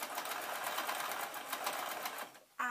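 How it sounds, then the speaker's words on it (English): Sewing machine stitching through microfiber tea-towel cloth, a steady fast mechanical whirr running continuously, fairly quiet, before stopping abruptly near the end. "I'm going to sew along the blue line,"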